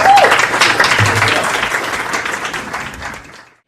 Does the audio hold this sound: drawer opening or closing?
no